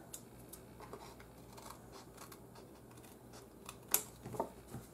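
Scissors trim excess paper from a handmade shopping-bag greeting card, a few short close snips near the end against quiet room noise.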